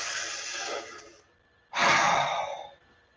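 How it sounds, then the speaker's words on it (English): A deep breath drawn in, then after a brief pause a louder breath pushed out, close and alone with no talking. "Nice deep breath"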